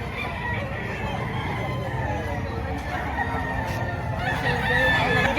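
Banded roosters for sale at a chicken market in Padre Garcia, Batangas, crowing and clucking in a steady, crowded din alongside people talking.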